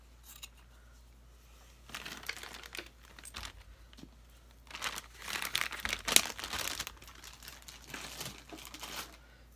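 Scissors cutting a wet wipe in half at a craft table, giving a few soft crinkling snips and rustles in short bursts, close and fairly quiet, with no one speaking.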